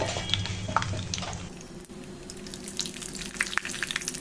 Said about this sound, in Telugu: మినపప్పు కొంచెం brown colour, golden brown colour వచ్చే వరకు వేయించుకోవాలి.